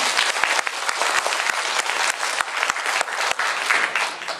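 An audience at a gathering in Taiwan, held to mark the launch of a natural detox and wellness association, gives warm, sustained applause: dense clapping at an even level throughout, with a few sharper claps standing out.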